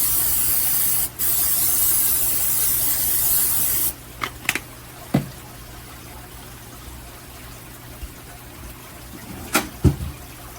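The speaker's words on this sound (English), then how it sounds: "I'm going to spray it" Pam cooking spray hissing into a slow cooker being readied for balsamic pork tenderloin, a steady close spray of about four seconds, followed by a quiet kitchen with a few soft clinks.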